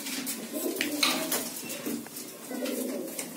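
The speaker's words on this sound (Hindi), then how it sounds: "अपने कबूतर आ भाई" Pigeons cooing close by, soft repeated throaty coos running through the short stretch with faint clinks in the background.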